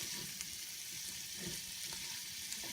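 Seasoned egg mixture for a frittata being stirred, a soft steady scraping and swishing with faint clicks of the utensil against the bowl, close and continuous with no talking.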